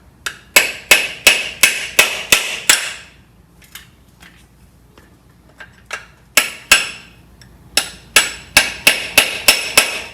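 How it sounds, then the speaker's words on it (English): Sharp metallic hammer taps on the case of a seized VW Beetle engine, struck in quick bursts of about seven blows, then scattered faint knocks and another rapid run of strikes, close and loud. "So you can tap on it lightly."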